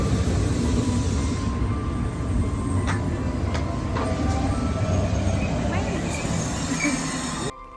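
Loud rumble of a train in motion in Madrid, wheels clattering and occasional squeals and clicks over a constant roar, ending abruptly.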